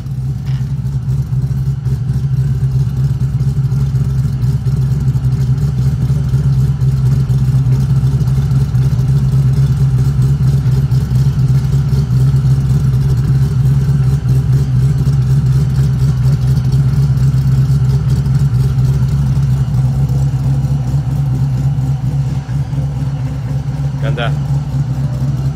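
A 1969 Chevrolet Camaro SS V8 idles loudly and close by, a deep steady rumble with a lumpy muscle-car lope holding throughout, while people talk over it.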